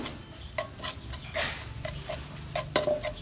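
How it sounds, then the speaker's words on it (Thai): Rice being stir-fried in a pan with a little water, a spatula scraping and clinking against the metal in irregular strokes, close and fairly quiet with no talking. "ใส่น้ำลงไป แล้วก็ผัดจนข้าวหอมไง"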